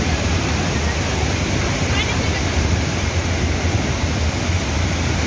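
Randha waterfall at Igatpuri plunging hard, a dense, steady broadband roar of falling water that fills the whole stretch without a break, loud and close, with no clear voices above it.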